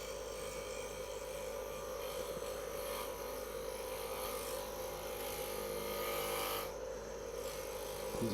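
An Easy Wood hollower cuts into walnut spinning on a wood lathe at about 3,000 RPM, giving a faint, continuous scraping rasp over the lathe's steady hum, with no speech.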